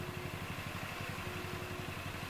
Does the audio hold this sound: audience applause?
no